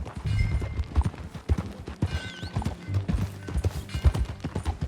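Horse hooves in Red Dead Redemption 2 clip-clop at a steady walking pace on a dirt trail, close and fairly loud, with tack rattling and a brief whinny partway through.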